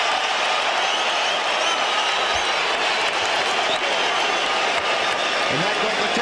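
A boxing arena crowd roars and applauds steadily after Vitali Klitschko showboats against a rocked Albert Sosnowski at the bell, a dense, loud wash of cheering with no clear breaks.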